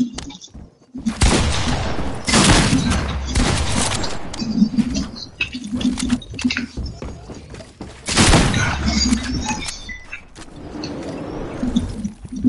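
Bursts of loud gunfire in a PS4 video game, heavy automatic volleys with thuds and impacts, broken by short quieter gaps, with a voice talking at moments.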